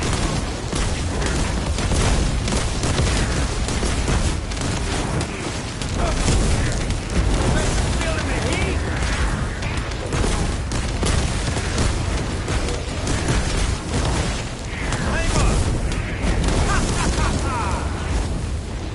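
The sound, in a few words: popping explosions in video game The First Descendant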